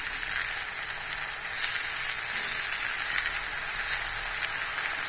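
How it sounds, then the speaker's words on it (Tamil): Sesame oil foaming and bubbling in a pan as raw banana fries, a dense, even crackling sizzle like light rain that carries on steadily at close range, with no speech. "நல்லெண்ணெய் ஊற்றுனாங்க, அதுதான் பொங்குது."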